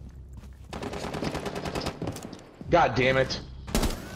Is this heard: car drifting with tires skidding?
no